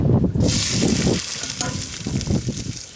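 Onions hit hot melted ghee and sizzle with a bright, steady hiss, close up, while stirring and scraping knock in the pan underneath.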